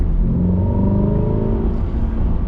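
A Chevrolet C8 Corvette engine gives a deep steady rumble inside the cabin, close and loud, with the engine note slowly shifting as the throttle is applied.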